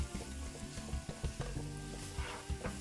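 Onions sautéing over medium heat in a pan with browned bits left from cooking chicken for Marsala, a steady close sizzle broken by repeated soft scrapes and stirs, with no talking.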